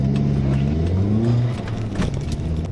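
A turbocharged car accelerates hard along an open road, its engine note steady and droning close up with a rising pull, continuous throughout with no talking.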